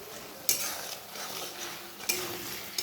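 A spice paste sautéing in a pan with a little sugar, a steady frying hiss punctuated by two sharp scrape-and-stir strokes of a spatula, close and alone with no talk.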